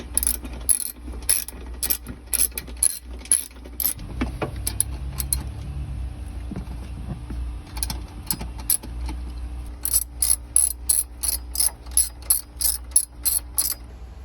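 A ratchet wrench tightens bolts while a battery is installed in a 2022 Sprinter van: rapid clicking bursts, close and loud, come at the start and again near the end, with quieter mechanical rattling between them.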